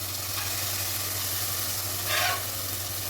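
Tomatoes sautéing in oil for sambar give a steady, close sizzle over a low hum, with a brief louder hiss of stirring near the end; no talk.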